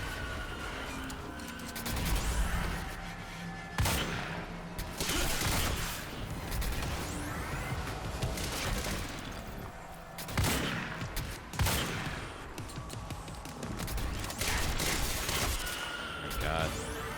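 Gunfire from the third-person shooter Quantum Break, with dense bursts of shots and sharp blasts repeating through a noisy combat mix, and someone talking intermittently over the action.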